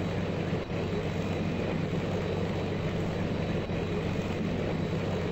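A Tupolev Tu-95 bomber lands on a runway in a flight simulator game, its engines giving a steady, loud broadband drone that holds without a break throughout.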